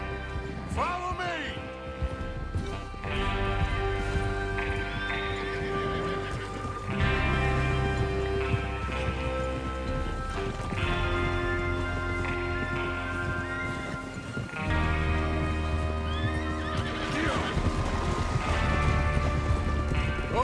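Horses in Red Dead Redemption 2 gallop with steady clip-clop hoofbeats and an occasional whinny, set against a continuous orchestral music score with speech woven through.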